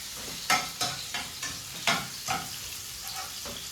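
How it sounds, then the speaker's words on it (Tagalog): Onions sizzle in a hot pan, with several rhythmic stirring scrapes about every half second over a steady frying hiss. "prito lang muna po natin ang ating sibuyas"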